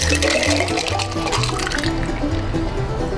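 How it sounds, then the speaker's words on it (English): Moonshine cocktail pouring steadily into a glass, a continuous splashing gurgle close by with faint background music. "and pour it into the glass"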